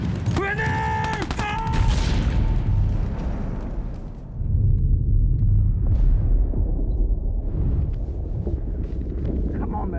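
Grenade blast and gunfire from a Sabaton war scene set in the First World War Christmas Truce: a sharp burst early on, then a loud rumbling roar that dips briefly and surges back, with a shouting voice near the start.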